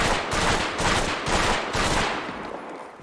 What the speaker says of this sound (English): Let's go ahead and mag dump this thing.